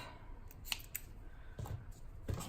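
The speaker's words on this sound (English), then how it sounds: "I will cut a small piece of double-sided tape" Scissors snip a small piece of double-sided tape during a mermaid-themed papercraft project, giving a few quiet, brief clicks and cuts over faint background hiss with no talking.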